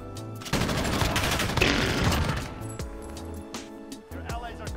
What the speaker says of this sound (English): I don't know if I like this machine gun or not